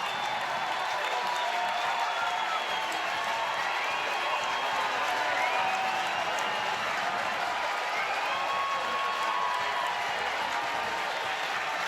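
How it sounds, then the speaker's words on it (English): A packed soccer stadium crowd roars and cheers after an equalizing goal in a Seattle Sounders vs. Portland Timbers U.S. Open Cup match, a dense sustained wall of noise with whistles rising over it, alone without talk. "the crowd going absolutely crazy now"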